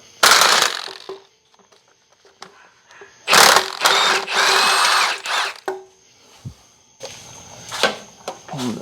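A power tool works a 17 mm bolt on a Honda Element's manual transmission in several sharp, loud bursts of whirring and rattling, with quiet gaps and small clanks between them.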